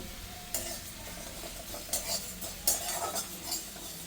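A utensil scrapes and stirs through spices dry-roasting in a pan, with a soft crackle and several louder scraping strokes, close and without talk.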